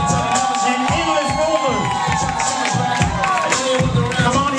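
Crowd cheering and whooping for Sheena at a fashion show, a loud, continuous roar of voices and shouts that holds steady throughout.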